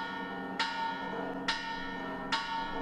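Church bells strike three times in slow succession, each clang bright and ringing out with a long decaying tail, fairly near and clear with no voices.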